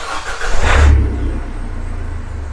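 A Vauxhall Vivaro Sport van engine cranks and fires up after a turbo replacement, with a loud catching rush that drops to a steady, close, low idle rumble.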